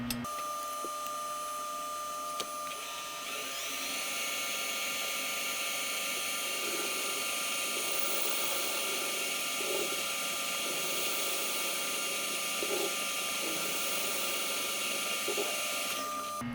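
A Haas CNC lathe facing thirty thousandths off the end of a custom T60 Torx bit: a steady, loud high-pitched machining whine with a constant tonal hum beneath it, running continuously with small flutters and no voices.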